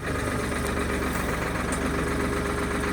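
A tractor engine idles in a steady, loud, unbroken rumble with a dense low throb throughout, close and alone.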